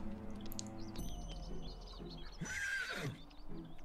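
A horse in The Sims 3 gives a loud, close whinny lasting about a second, with bird chirps and a low hum of game ambience around it.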